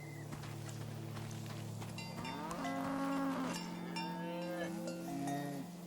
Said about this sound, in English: I wish cows were this friendly.